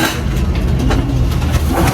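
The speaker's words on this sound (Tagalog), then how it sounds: "Napakadaming ibon." Pigeons in a loft, a dense, close murmur of birds with soft cooing and wing flutter, steady and loud throughout with no talk.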